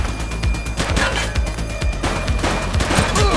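Rapid bursts of gunfire crackle through a police shootout in the video game The Precinct, loud and dense with overlapping shots and booms, while voices shout faintly underneath.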